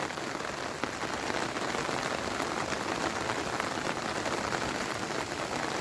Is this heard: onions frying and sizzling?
no